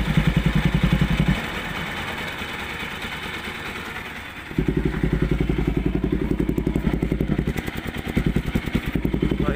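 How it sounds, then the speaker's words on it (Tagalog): A Honda NS200 motorcycle engine idles steadily with a clattery, even low throb, no additive oil yet added; the tone dips and thins briefly before the fuller idle returns. "Oh, ayan ang tunog niya, yung sa engine."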